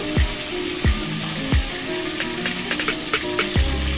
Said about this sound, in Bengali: আমি কিন্তু এখন মাছগুলি সম্পূর্ণ ভেজে নেব